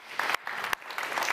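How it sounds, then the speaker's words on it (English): A conference audience claps, a brief burst of dense applause broken into short rapid swells lasting just over a second, moderately loud with no voices. "I think it deserves a big round of applause for putting up this huge and excellent program yesterday and today."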